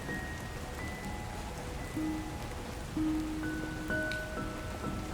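Rain at night makes a low, even patter across surfaces, fairly faint, with soft sustained musical tones layered over the wash.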